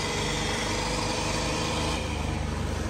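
A tractor engine drones steadily and close up, a dense continuous rumble with no break or speech over it.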